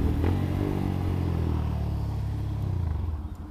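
Idling and slightly revving engine of a Honda CG Start 160 motorcycle bored to 239cc, a steady close, loud rumble that holds evenly and begins to waver at the end.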